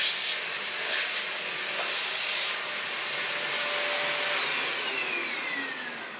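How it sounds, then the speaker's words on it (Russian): A Tinton handheld vacuum cleaner runs with a loud, breathy whirring roar, its airflow surging briefly a couple of times before easing slightly toward the end. "Все, вот так работает пылесос."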